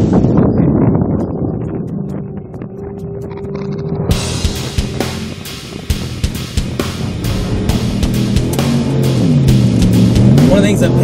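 Ford Raptor pickup driving with its transmission hunting for gear, engine drone rising and falling as the revs bounce, amid wind buffeting and road bumps, with someone talking over it.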